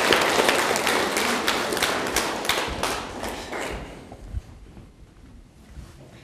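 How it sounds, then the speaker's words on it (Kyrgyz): A group of people applauds, with a burst of fairly loud, dense clapping that thins over several seconds into a few scattered claps before dying away. "Кол чаап коебуз."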